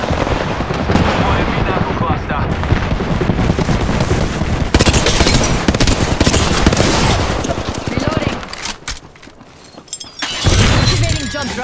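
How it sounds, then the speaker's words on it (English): Rapid automatic gunfire in the battle royale shooter Apex Legends, loud and sustained bursts with crackling impacts, briefly easing off near the end before another burst returns. "You're being shot at."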